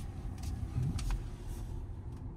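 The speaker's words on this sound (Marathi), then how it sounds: "स्वतःहून पार्क करणार गाडी" A Tesla car parking itself automatically, a low, quiet motor hum with soft mechanical whirs and brief clicks, steady and subdued with no talk.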